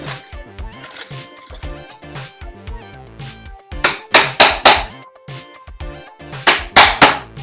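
A small socket is hammered by hand into a cement cupboard wall to make a hole for fitting a door frame, with no drill. Loud metallic strikes come in uneven bursts, with sharp clinks and a tight cluster of heavy blows.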